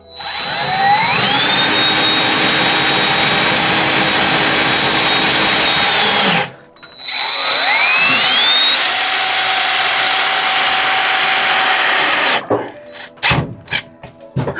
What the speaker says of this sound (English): Let me find my drill.